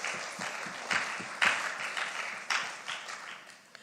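An audience at an official results release ceremony gives a round of applause, steady moderate clapping heard from some distance.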